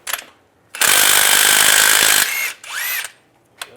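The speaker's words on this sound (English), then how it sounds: "Now using a 24mm socket, we want to take off the crank bolt" A power tool with a 24mm socket spins off the crank bolt on a 2007-2013 Chevy Silverado, one loud sustained burst of rattling hammering, followed by a couple of shorter whirring revs and a brief clunk.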